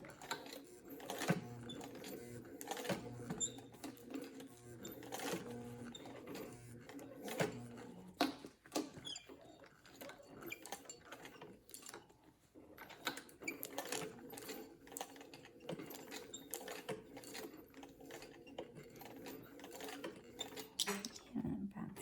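A sewing machine stitches denim in repeated mechanical runs of whirring and clattering, broken by short pauses, at a soft to moderate level close by.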